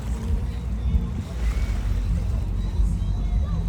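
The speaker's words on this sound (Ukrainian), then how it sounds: "Ми вже сіли в лодочку і їдемо." A small rowboat moving across water at sunset on the way to a fireworks display, with steady low rumbling and water wash throughout, close and continuous, and a brief cutoff at the end.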